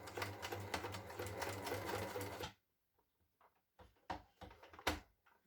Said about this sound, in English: first I'm gonna sew closely around the edge just to secure the 2 fabric pieces together